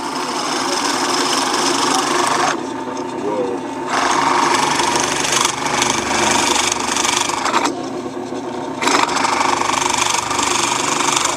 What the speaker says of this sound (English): now we are going to drill through the hole so that way we don't get any blowout